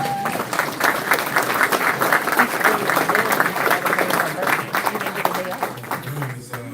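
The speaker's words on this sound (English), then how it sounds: "let's give a round of applause" A room of people at a town meeting in Dolton claps together in a steady, fairly close round of applause lasting several seconds, with some voices mixed in.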